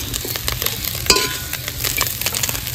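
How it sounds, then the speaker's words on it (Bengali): Small fish frying in a pan, a steady close sizzle broken by sharp scraping stirs and metal clinks, with no voices. "মাছগুলো আমি সব ভেজে নেবো"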